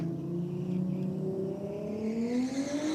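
A turbocharged blue Holden VL Calais revs hard at a drag race, struggling for traction down the track; a loud, rising engine whine climbs steadily in pitch as it accelerates away.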